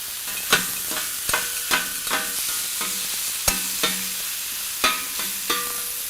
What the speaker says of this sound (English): Notice we're chopping the patties, not the cheese.